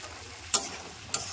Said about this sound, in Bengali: দিয়ে আবার হালকা টু লো ফ্লেমে এগুলোকেও ভাজতে থাকবো।